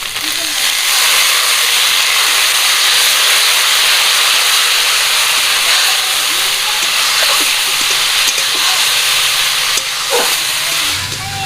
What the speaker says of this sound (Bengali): মশলাটা যাতে পুড়ে না যায় তার জন্য একটু জল দিয়ে দেব।